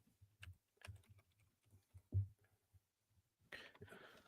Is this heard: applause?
no